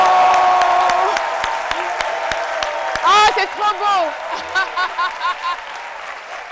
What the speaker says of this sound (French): On va tous se lever et puis applaudir ensemble.